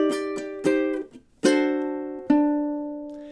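Ukulele strummed through measures 9 and 10 of a song, a few ringing chords struck one after another, each decaying cleanly, close and alone.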